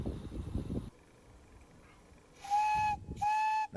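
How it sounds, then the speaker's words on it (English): Two loud blasts of a steam train whistle on a live steam railway ring out close by, each a bright sustained chordal tone, following quieter background rumble and hiss. "Nice whistle."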